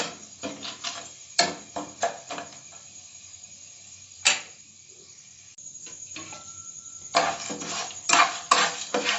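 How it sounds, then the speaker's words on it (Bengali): Rice frying in a pan for curd rice, with repeated sharp metal spatula scrapes and clinks against the pan in bursts and a faint sizzle underneath, close and fairly quiet. "দু থেকে 1 মিনিট এটাকে ভালো করে ফ্রাই করতে হবে।"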